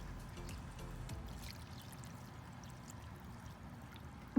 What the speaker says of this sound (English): You pour some more rainwater inside of there.